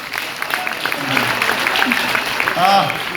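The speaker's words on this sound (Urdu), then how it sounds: "تالیاں زور سے بجاؤ نا یار" An audience at an Urdu conference in an arts council hall applauds, a loud, continuous patter of clapping with voices and crowd murmur mixed in.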